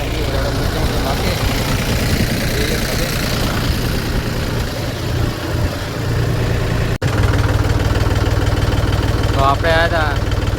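A tractor engine runs in a farm field, a steady close rumbling idle that continues throughout while people talk nearby.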